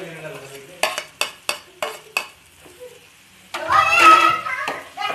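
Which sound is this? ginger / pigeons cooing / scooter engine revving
ginger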